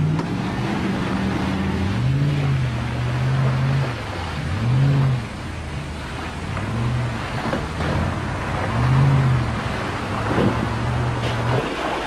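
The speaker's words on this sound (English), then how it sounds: "if you steer lightly through the mud at constant speed" An off-road vehicle drives steadily through mud at constant speed, its engine droning loudly and continuously with recurring rises and dips in pitch, set against a broad wash of splashing and sloshing noise.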